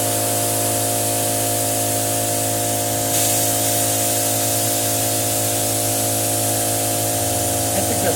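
Compressed air rushes through an inground sprinkler system while it is being blown out for winter, a loud, steady hiss of spray that holds at one level and swells slightly partway through.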